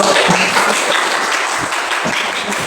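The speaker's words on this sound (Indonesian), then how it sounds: "Oke, tepuk tangan dulu." Classroom group applauds a student team about to present, a steady dense patter of clapping filling the whole stretch at moderate loudness with no voices over it.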